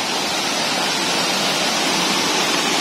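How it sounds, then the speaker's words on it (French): Small forest waterfall in Doi Inthanon National Park, Thailand, giving a steady, dense broadband rush of falling water that holds even and continuous throughout, with no voices over it. "on arrive sur une petite cascade."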